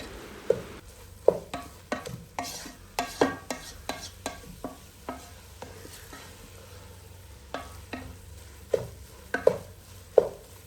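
Sliced onions frying in oil in a pan for Thalassery dum biryani, stirred with a spatula. Sharp scraping strokes come at an irregular rhythm over a steady soft sizzle, close and fairly quiet, with no talking.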